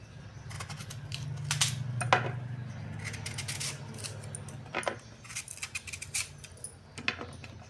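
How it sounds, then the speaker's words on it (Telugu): A knife chops peeled raw mango into chunks, giving a series of close, sharp taps and clicks against a board that grow quicker and more irregular toward the end, over a low background hum. "మామిడికాయ అయితే పొట్టు గీకాను, మొత్తం ఇది కట్ చేస్తున్నాను ముక్కలు"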